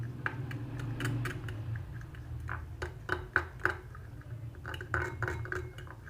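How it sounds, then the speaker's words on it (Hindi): A fork mixes spices and food colouring in a bowl, sharp clinks and taps ticking out in an irregular run, close and fairly quiet over a low steady background hum. "इसे अब मिक्स करेंगे एक फोर्क के साथ।"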